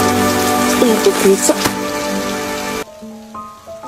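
Dense, steady hiss of fairly heavy rain falling outdoors, filling the first three seconds before cutting abruptly to a quieter scene with faint music-like tones.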